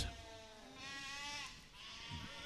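At a livestock auction, a sheep gives a couple of quavering bleats that stand out over a steady room hum, moderately near.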